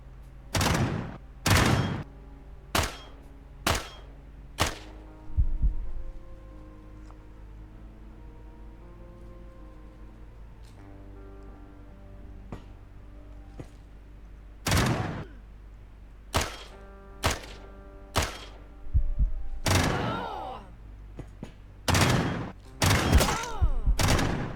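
Gunfire in the sci-fi tactics game Quasimorph, shots striking through a ship's hull: bursts of loud, sharp cracks in clusters, a volley early on, then a denser run of rapid shots later over a low ambient game hum.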